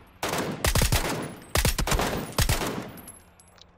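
Gunfire rings out in a video game as two or three sharp, loud bursts of rapid shots, separated by short gaps over a faint background.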